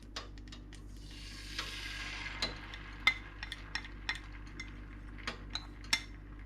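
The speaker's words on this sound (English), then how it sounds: "Basically, just want to scramble the egg." Egg scrambled with cucumber in a hot oiled pan, a soft steady sizzle under scattered light clinks and taps of a utensil against the pan.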